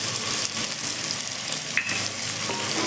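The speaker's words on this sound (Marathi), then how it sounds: "हे सर्व घालून चांगले भाजून घ्यायचे तेलात भाजलं पाहिजे" Peanuts, potato and carrot fry in hot oil, making a dense continuous sizzle with faint stirring scrapes, close and steady and with no talk.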